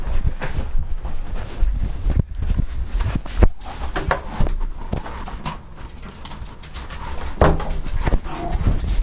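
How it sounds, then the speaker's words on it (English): An indoor dog gives repeated short barks and whimpers in uneven bursts. The sounds are moderately close and are heard without any talking. "You will not bark while I am recording."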